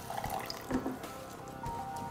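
Already-boiled water poured into a pot while cooking Turkish rice with eggplant, a quiet trickle with soft splashes and gurgles, faint and close.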